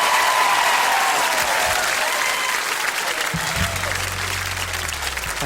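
Loud, steady applause and cheering from a large studio audience at a TV talent show results night, filling the whole stretch without a break, with a low musical tone entering near the end.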